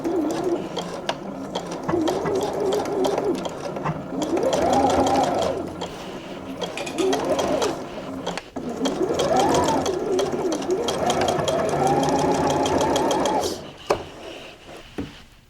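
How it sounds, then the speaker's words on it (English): A Juki sewing machine stitches around the sides of jeans panels in a close, steady mechanical whir that rises and falls in speed across several long runs, then stops near the end. "I'm just going to sew all the way around, all of the sides except for this side."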